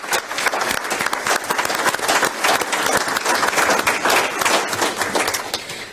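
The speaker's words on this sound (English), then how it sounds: "if we could just give a round of applause to everybody who was nominated and to Dr. Ramos." A round of applause fills a city council meeting in East Providence, a room of people clapping steadily and fairly loudly for several seconds with no talk over it.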